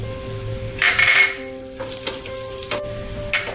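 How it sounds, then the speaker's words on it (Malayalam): Cashews and raisins hit hot ghee in a pan for a Kerala parippu pradhaman, giving a brief sharp burst of sizzling followed by softer crackling and a few stirring scrapes, with no talking. "നെയ്യ് ചൂടായിട്ട് വന്നിട്ടുണ്ട് അണ്ടിപ്പരിപ്പ് ഇട്ട് കൊടുക്കാം"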